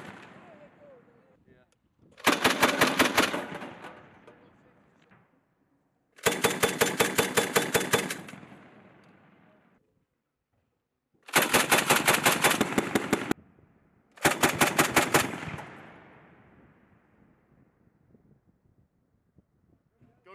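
USMC Mark 19 40mm automatic grenade launcher firing on a range in four loud, sustained bursts of rapid thumping shots, each ringing out into a fading echo, with quiet gaps and faint voices between bursts.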